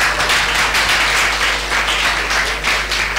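An audience applauds a film director at a francophone cinema day event, dense steady clapping filling the room for a few seconds.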